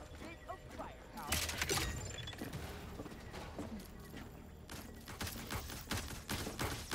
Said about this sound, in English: my turrets are shooting at each other again